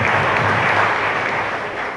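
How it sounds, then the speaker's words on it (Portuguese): A church congregation breaks into dense, sustained applause, many hands clapping together in a loud, even wash of sound that fills the room throughout. "a sua igreja vai te aplaudir"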